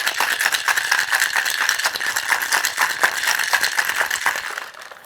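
Cocktail tin with ice shaken hard for a lemon peach margarita, a fast rhythmic rattling of ice against metal that continues for several seconds, then slows and stops, up close with no talk.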